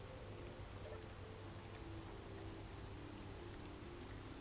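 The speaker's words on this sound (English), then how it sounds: "Oh, and it's fucking raining." Steady, even hiss of rain falling in the Space Engineers game world, a continuous quiet wash of noise with faint droplet texture and a low hum underneath, no talk.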